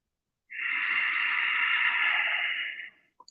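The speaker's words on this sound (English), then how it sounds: "Slow, deliberate breathing, and you are aware of the breathing" One slow, deliberate breath as part of a morning routine, a steady airy rush lasting about two and a half seconds after a moment of silence, close and fairly soft, then a few faint ticks.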